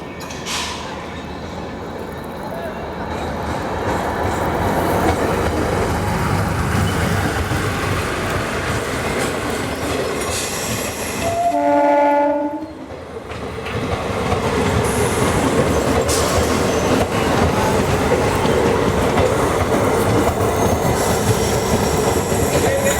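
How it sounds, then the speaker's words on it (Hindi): An Adilabad–Purna DEMU train rumbling past up close with continuous wheel clatter and rail noise, briefly dipping with a squealing whine before the loud roll resumes. "ये है आदिलाबाद पूर्णा डेमू।"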